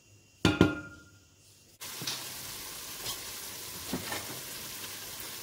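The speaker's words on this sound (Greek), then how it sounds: "να τσιγαριστεί και μετά προσθέτουμε την κόκκινη πιπεριά Φλωρίνης" Red Florina peppers dropped into a hot pan with softened onion, a sudden steady sizzle of frying starting after a couple of clatters, with occasional stirring scrapes.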